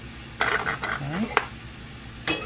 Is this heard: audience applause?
no